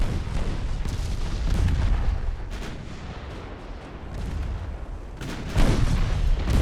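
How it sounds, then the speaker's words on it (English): Nine-inch naval guns firing in a naval warfare video game, a continuous rumbling barrage of deep booms and distant blasts rolling over each other at a steady loud level. "Let's return the favor with some 9-inch guns of our own."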